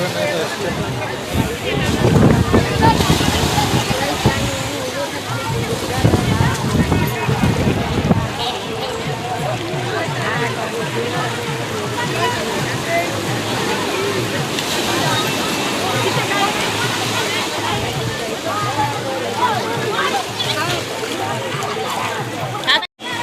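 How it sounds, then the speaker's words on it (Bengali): Sea waves rolling onto the shore at Gangasagar during the crowded Gangasagar Mela bathing festival: a steady, rushing wash of surf and wind noise with swells in loudness, under continuous voices of people. "ঢেউটা কি জোরে জোরে আসছে"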